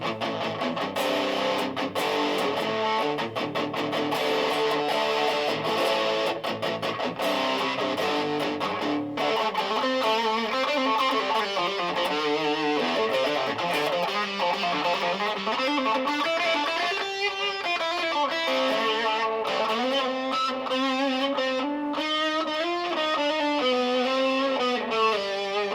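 Distorted electric guitar with BC Rich pickups on a bodyless claymorecaster build, thick sustained overdriven chords and bending lead lines ringing continuously, loud and close with no talk.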